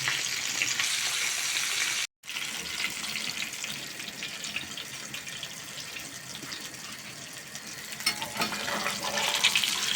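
Silver carp fillets and head fry in oil over low heat, a steady hissing sizzle with crackles, close and continuous, interrupted by a brief silent gap early on.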